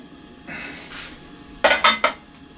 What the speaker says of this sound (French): Mettre la casserole.